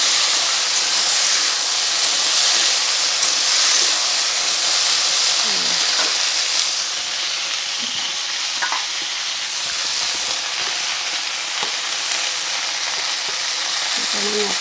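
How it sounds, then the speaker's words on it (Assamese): Okra frying in a pan, a dense, even sizzle that holds steady throughout, close and loud, with faint utensil movements now and then. "এনেকৈ মই অকণমান ভাজি ল'ম।"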